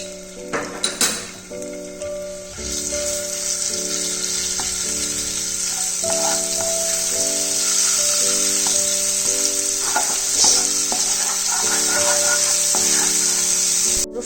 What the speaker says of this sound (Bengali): রসুনটা ফ্রাই হয়ে গেছে